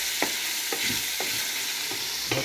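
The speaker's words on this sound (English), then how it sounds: "The saltfish have a little fry." Saltfish frying in a pan for ackee and saltfish, a continuous bright sizzle with four or five regular stirring scrapes, close up and without talk.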